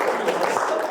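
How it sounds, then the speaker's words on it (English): Applause from an audience at a lecture on game AI, a steady broadband patter of clapping filling the whole second at moderate loudness, with no other sound standing out. "Give them a round of applause."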